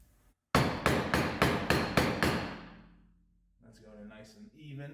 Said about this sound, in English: using that to hammer it in